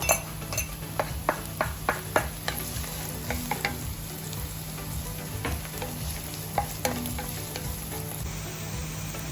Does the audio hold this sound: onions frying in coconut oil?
yes